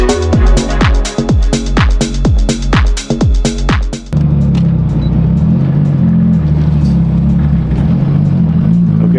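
A Nissan R34 Skyline driving through city streets in Ginza, Tokyo: for the first few seconds the engine revs up repeatedly in sharp surges, then it settles into a steady, close interior rumble while cruising.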